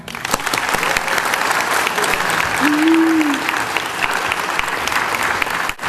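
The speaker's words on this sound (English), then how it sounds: "Please join me in giving a very warm welcome to Jillian Parramore." Audience applause welcoming educator and disability advocate Jillian Parramore to the stage, a steady dense clapping from a crowd that fills the whole span, with a faint voice briefly over it.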